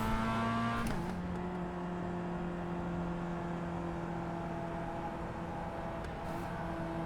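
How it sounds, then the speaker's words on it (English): A Mazda MX-5 race car at Martinsville in iRacing drones with a steady, whiny engine note, dipping briefly near the start and then holding an even, continuous tone for several seconds. "Why does this car sound so annoying?"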